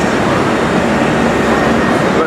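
Train pulling in at Prudhoe station on a February day, a steady broadband rumble and roar of the approaching rail cars close by, continuous throughout with no clear talk over it.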